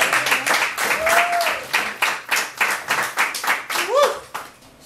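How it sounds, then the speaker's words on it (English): A poetry-night audience in a living-room venue claps to welcome a poet to the stage, giving a close, loud burst of many hands with distinct rhythmic slaps, while a few voices call out briefly over it. "Please clap to stage Miss Millz."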